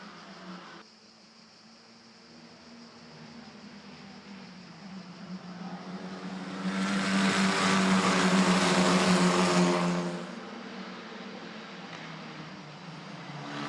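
Formula 4 race cars at the start of an Italian F4 Championship race at Imola, engines droning and swelling as the pack roars past loudly midway, then fading back to a steady distant hum.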